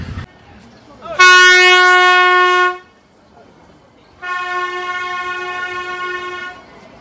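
A Nilgiri mountain train sounds two long, loud, sustained horn blasts near Ooty, separated by a short gap, over a low rumble of the running train.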